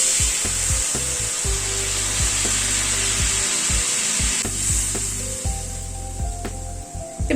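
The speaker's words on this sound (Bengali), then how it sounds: "গুঁড়ো মশলাটা একটু নাড়াচাড়া করে নিয়ে গরম জল অ্যাড করে দিচ্ছি।" Hot water poured into a pan of ground spices and ridge gourd frying for a thin hilsa curry with gobindobhog rice paste: a loud, continuous hissing sizzle with steady bubbling and a few stirring clicks, close up and without talk.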